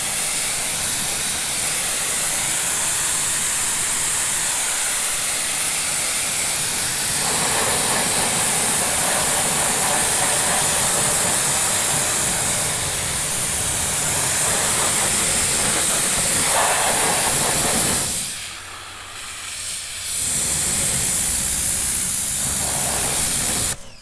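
A pressure washer sprays a car wheel coated in DARK FURY wheel cleaner, a loud continuous hissing roar close by, briefly dipping as the spray shifts before surging back.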